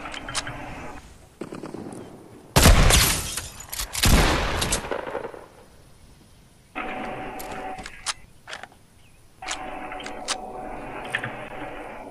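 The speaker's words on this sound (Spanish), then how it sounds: "Ya lo da un tiro." Video game gunfire, a loud close burst of rapid shots followed by a second volley, then quieter stretches with faint clicks and background game sounds.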